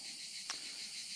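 Insects shrill in a steady, continuous high-pitched buzz heard from a distance, a faint summer drone of cicadas with one brief sharper tick partway through.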